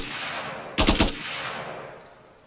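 A rapid burst of automatic gunfire from a student-made shooter game, a few tight shots in quick succession standing out against quiet background ambience.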